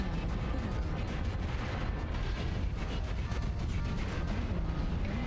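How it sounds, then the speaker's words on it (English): Airstrike explosions in Mechwarrior Online rumble continuously as dense, booming blasts and crackling debris, loud and sustained with no pause. "Acquired. Airstrike. Target spotted."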